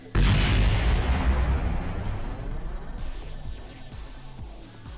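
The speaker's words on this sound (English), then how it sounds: "And explosion." A rocket blows up in the video game Kerbal Space Program, a loud sudden boom followed by a long rumbling, crackling decay that slowly fades over several seconds.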